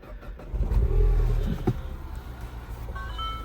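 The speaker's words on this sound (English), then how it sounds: "let's start her up and see just what she sounds like, because this actually I think it's got an aftermarket exhaust" A mouldy barn-find car fitted with an aftermarket exhaust is clutch-started: a low engine rumble catches and swells briefly, then settles into a fairly quiet idle, with a few faint electronic beeps near the end.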